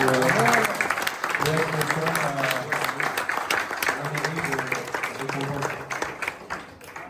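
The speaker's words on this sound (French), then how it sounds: "Voilà, je vous remercie, on peut les applaudir." An audience applauds the champions at an annual awards ceremony, a steady broadband wash of clapping that tapers off over the last seconds while a voice talks over it throughout.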